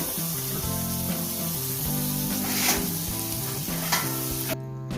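Green chilies fry with salt in a pan, a loud continuous close sizzle with occasional stirring scrapes, heard alone while music plays underneath.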